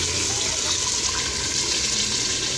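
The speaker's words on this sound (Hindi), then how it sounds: "अब मैं इसमें ग्रेवी के लिए पानी ऐड कर लूँगी" Steady rush of about a mug of water pouring into a pressure cooker of potato and meat curry for gravy, continuous and close, with no talking.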